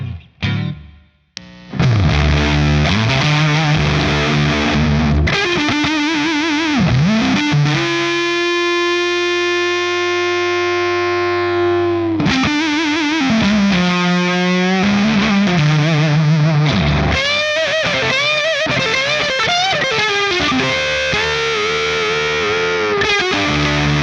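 An electric guitar runs through a fuzz pedal with the gain at full, giving loud, thick, saturated chords and notes. One long note is held and sustains in the middle before heavily distorted playing resumes.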